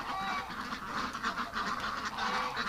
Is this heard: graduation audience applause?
no